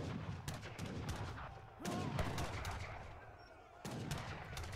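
Mortars and gunfire in an Age of Empires III 2v2v2v2 free-for-all battle: repeated sharp booms and crackling shots over a busy, low-level game soundscape.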